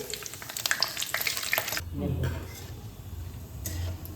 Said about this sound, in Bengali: তেলের মধ্যে দিয়ে দিলাম হালকা ফ্লেমে এটাকে ভেজে নিচ্ছি